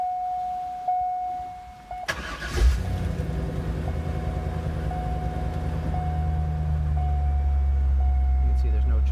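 A 1998 Chevy Corvette convertible with automatic transmission cranks and fires, its engine catching sharply and settling into a steady, smooth, close idle that rumbles on for several seconds after a brief chime and cabin noise.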